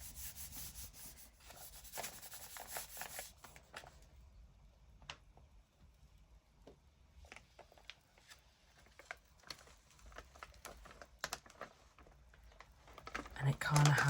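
Dry rubbing and scraping of grunge off background paper for a junk journal, made up of irregular scratchy strokes up close, soft at first and growing rougher and louder toward the end.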